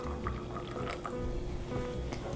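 Boiling hot water poured close up into a measuring cup while making a chocolate mayonnaise cake, a short steady liquid fill with faint dripping and no talk.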